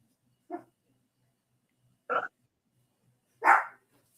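A dog gives three separate short barks spaced a second or more apart, each fairly close and clear against an otherwise quiet background.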